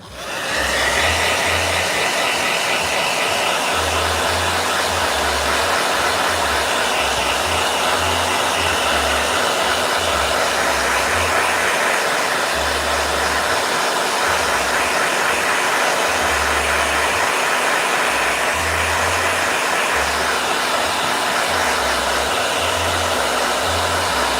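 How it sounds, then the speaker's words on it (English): A hair dryer blows loudly and steadily, a constant broadband roar that runs uninterrupted without pauses or voices. "All right, blow dryer."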